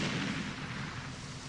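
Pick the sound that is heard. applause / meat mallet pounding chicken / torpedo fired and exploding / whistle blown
torpedo fired and exploding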